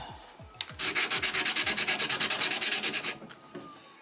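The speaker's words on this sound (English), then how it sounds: "I'm a little bit worried about sanding it." Rapid rhythmic back-and-forth scraping of sandpaper on wood, about two dozen quick strokes up close, then stopping.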